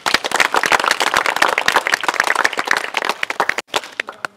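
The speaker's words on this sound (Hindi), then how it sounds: "बहुत बड़ा ताली दियो" Classroom applause from a group of students during a school session, dense overlapping hand claps sustained for several seconds before thinning to a few scattered claps at the end.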